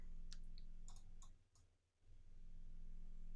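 Computer keyboard keys are pressed for a Control Shift D shortcut, giving a few quick, soft clicks close by in a quiet room with no talk.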